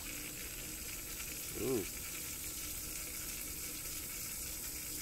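Water rushes in a steady, even stream, driven by OEM electric water pumps connected in series and running at 14.3 volts. A person gives one short exclamation partway through.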